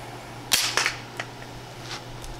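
A gun fired at a target while testing a Victoptics SPX 1x22 red dot sight, two sharp cracking shots in quick succession followed by fainter clicks and pops, over a low steady hum.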